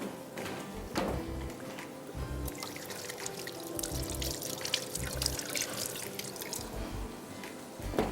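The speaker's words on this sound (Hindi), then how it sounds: "चलें जी, हाथ धो लेते हैं पहले" Hands are washed under running water in a home kitchen, giving a quiet, close trickle and splashes with irregular drips and bursts of water throughout, with no talking.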